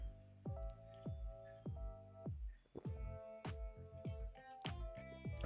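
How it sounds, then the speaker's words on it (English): A person sipping water, a series of soft wet sips and little swallowing squishes, close and quiet, repeating irregularly roughly every second. "I was taking a sip of water"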